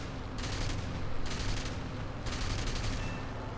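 Aircraft gunfire in the WWII air combat game War Thunder, fired from a fighter while escorting IL-2 Sturmoviks: three rapid machine-gun bursts of about half a second each, close and loud over a steady engine drone.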